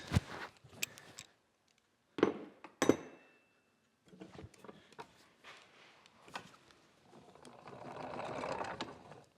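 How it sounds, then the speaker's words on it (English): Socket wrench tightening a set screw against a shaft flat on a blacksmith blower under repair: quick ratcheting clicks and metallic clatters in short irregular bursts, close and fairly quiet, with gaps between. "we'll just tighten that right up on there with a socket"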